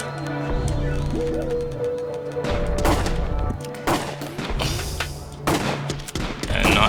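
Rapid bursts of gunfire from the video game Tokyo 42 crackle over a steady game soundtrack with a droning tone, loud and repeated shots clustering in volleys through the stretch.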